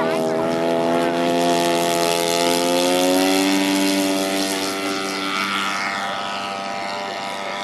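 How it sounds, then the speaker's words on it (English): A radio-controlled P-47 warplane model climbs away at a fly-in, its engine droning loudly and steadily with a sliding pitch that slowly fades as it gains distance, with a voice speaking over it. "P-47 going up."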